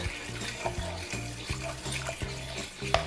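Sweet and sour sauce thickening in a pan while being stirred constantly, with a soft bubbling simmer and regular rhythmic scraping strokes, close and moderately quiet.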